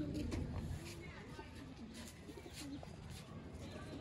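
Sialkoti breeder pigeons coo softly in short repeated phrases, close by and faint, under someone talking.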